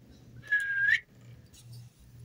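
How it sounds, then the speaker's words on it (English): A person whistles a single clear sustained note for about half a second, close and fairly loud, over a low background hum. "That's an incredible whistle"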